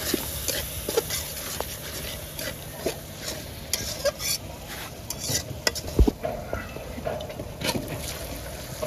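Spices being stir-fried in a pan for fish pulao, with a soft steady sizzle and scattered scraping stirs and clinks of a spoon against the pan, close and alone without talk.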